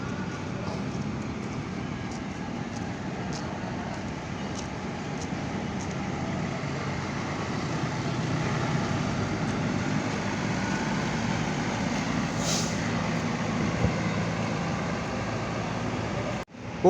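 Two Akas Green Ekonomi buses on the Surabaya–Malang route at Purabaya bus terminal, a steady idling engine rumble with ambient terminal noise, fairly close and even throughout, ending in a brief jolt.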